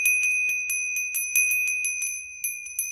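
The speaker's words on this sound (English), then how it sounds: "This is a miracle bell." A small metal miracle bell struck repeatedly to clear energy at a candlelit altar, giving a rapid series of bright, sustained ringing tones that overlap and linger, close and alone with no talking.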